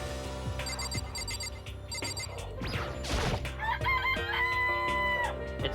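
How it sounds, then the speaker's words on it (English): Chickens in the Danganronpa video game crow and cluck over a layered backdrop of game music and chiming tones, with a loud, drawn-out crow in the middle and more clucking afterward. The birds sound close and there is no talking. "This place even has chickens, huh?"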